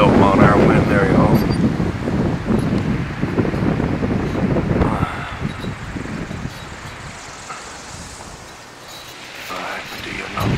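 Wind gusting around backyard wind turbines at roughly 12 mph, a steady rushing buffet with heavy microphone wind noise that swells and eases, loud and close throughout, with no talking.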